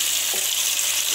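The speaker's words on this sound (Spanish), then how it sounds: "Dice Cari, espera aquí que tarde me salpica de aceite, de grasa" Hot oil and fat sizzle and spatter while snails cook in a pan, a dense close frying hiss that stays steady and loud with no talk over it.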